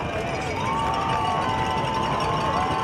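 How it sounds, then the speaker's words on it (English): Crowd noise swells at a high school varsity football playoff game, Wadsworth Grizzlies versus Medina Bees, a dense steady roar of cheering and shouting filling the stadium. "The crowd's getting loud."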